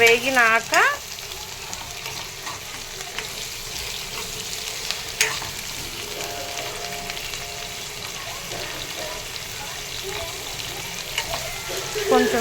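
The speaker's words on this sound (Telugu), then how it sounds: "ఒక టేబుల్ స్పూన్ ఆవాలు, ఒక 4-5 శనగపప్పు గింజలు వేసుకున్నా. తాలింపు ఎట్లా వేసుకుంటాం." Mustard seeds and a few chana dal grains fry in oil for a tempering for egg pulusu. A steady close sizzle hisses throughout, with a brief clatter of stirring at the start.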